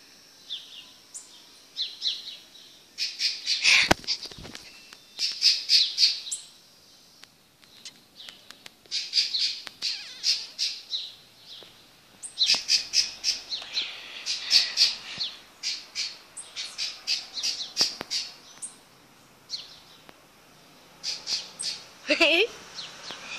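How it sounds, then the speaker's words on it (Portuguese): Harsh bird squawks repeat in irregular bursts throughout, loud and close, with a person talking between and over the calls. "Ai, que lindo o pássaro que tá ali, ó."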